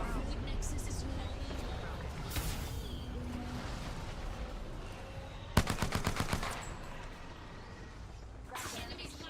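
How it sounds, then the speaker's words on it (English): Enemy gunfire in Apex Legends: a few scattered shots, then a fast, loud automatic burst around the middle and another volley near the end, set over a game ambience and a voice talking. "Enemies firing at me."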